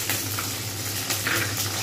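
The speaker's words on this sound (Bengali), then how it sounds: "এইবারে আমাকে উচ্ছেগুলোকে ভাজতে হবে, বেশি উচ্ছে নিয়ে নিই, ওই তেলেতেই ভাজবো" Bitter gourd pieces frying in oil for a traditional shukto, a close steady sizzle with crackling bursts and occasional stirring, no talk.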